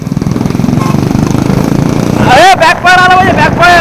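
A motorcycle engine rumbles loudly and close up with a rapid, steady exhaust chug through the silencer, then revs hard near the end while a voice speaks over it.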